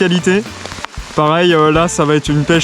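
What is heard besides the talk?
heavy rain falling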